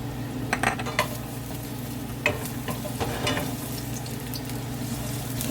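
Garlic frying in a pan for spaghetti sauce gives a soft, steady sizzle, with intermittent stirring scrapes and utensil clinks against the pan, close and fairly quiet with no talking.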